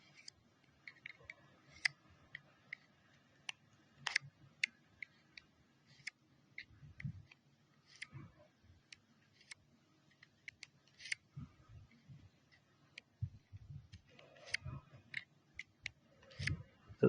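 A knife edge is drawn through a ceramic wheel sharpener, giving a run of short, close, scraping and ticking strokes that come in uneven bursts against a quiet background.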